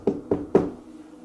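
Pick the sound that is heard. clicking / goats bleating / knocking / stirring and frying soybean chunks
knocking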